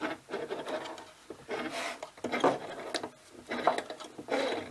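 A WW2 German FF33 field telephone's ringer crank is turned by hand, making repeated rasping, grinding bursts of gear noise in uneven strokes, close and fairly loud with no talking.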